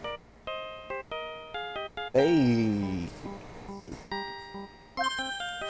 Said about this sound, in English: I don't like the sound of this ringtone right now.